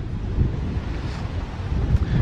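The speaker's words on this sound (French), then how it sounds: "Donc le vent s'engouffre à toute sa puissance" Strong storm wind gusts over a low-cost greenhouse beside a flat open field, a loud rushing roar with buffeting swells throughout.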